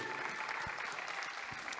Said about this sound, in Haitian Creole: Je vous demande d'applaudir pour nous